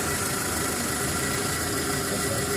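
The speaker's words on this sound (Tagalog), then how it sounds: "Tahimik na nung makina, wala na lagapak." A Mitsubishi 4AF engine, repaired after misfire, low power and fuel-supply faults, idles in a smooth, steady, even hum close by with no knocking or talk.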